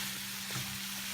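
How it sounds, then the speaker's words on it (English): Chicken breast, onion, tomato, garlic, ginger, carrot, kohlrabi and dry oats sizzle in a pan as they are stirred, a faint steady frying hiss with a soft scrape of mixing. "Now I'm mixing all. I'm letting it cook."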